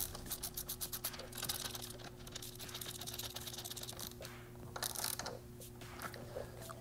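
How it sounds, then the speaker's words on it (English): Rapid clicking of a ratchet driving a 17mm socket to bottom out a frame slider bolt on a 2016+ Kawasaki ZX10R, quiet steady ticking in continuous bursts. "And then using a 17mm socket, I'm going to bottom this out."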